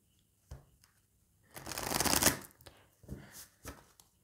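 Oracle cards being shuffled for a card reading: a short riffle, then a longer, louder shuffle, and a few brief softer shuffles, close and alone.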